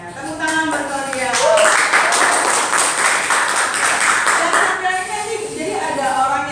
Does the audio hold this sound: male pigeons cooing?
no